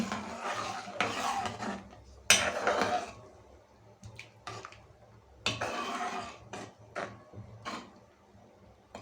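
Grated carrot mixed into a cooking pot, heard as bursts of close scraping and rustling stirring with occasional utensil knocks, uneven and separated by short pauses, with no voices.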